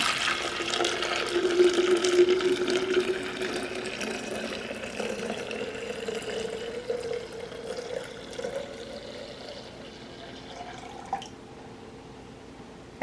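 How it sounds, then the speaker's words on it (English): Cooled homemade iced tea poured steadily from a container into a pitcher, a continuous liquid splash and trickle that gradually quiets, ending with a few drips. "Now I'm going to pour the tea in the pitcher."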